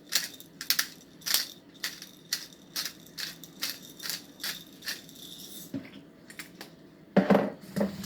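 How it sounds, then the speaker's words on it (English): A hand pepper mill grinding fresh black pepper, a series of close crunching twists in an uneven rhythm, with a sharper crackle near the end. "I'm going to have some fresh ground black pepper on it"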